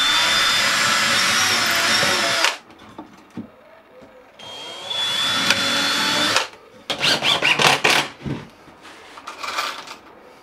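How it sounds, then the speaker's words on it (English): A power drill boring pilot holes through pallet wood, heard in loud high-pitched whirring bursts of a few seconds each, separated by quieter pauses and some short clattering handling noises near the end. "make sure you pre-drill the pieces first"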